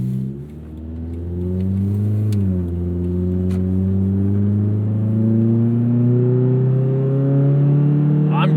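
A 2000 Honda Prelude engine revved hard under acceleration, the note climbing steadily with a brief dip as it shifts, then rising again as VTEC engages around 5,500 rpm; loud and close, with no talking.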